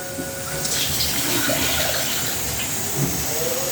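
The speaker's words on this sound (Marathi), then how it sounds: "पाणी टाकायचं एकदम थोडंसं" Steady rushing splash of a little water poured into a pan of oil for soybean curry, continuous and close, with a faint hiss and no talking.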